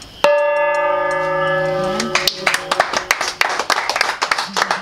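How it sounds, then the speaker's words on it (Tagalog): A gong is struck once near an altar, ringing with a loud, shimmering tone that decays over about two seconds before a run of close hand claps follows. "titirahin ko ulit itong gong"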